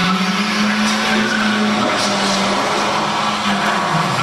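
A car lapping the Top Gear test track, its engine droning loudly and steadily with pitch rising and dipping through a corner, tire noise and wind roar filling the background throughout.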